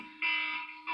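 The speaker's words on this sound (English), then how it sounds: "That's my husband's alarm to put the kids to bed." A household electronic alarm sounds a loud, steady buzzing tone that breaks off briefly and then starts again, heard alone.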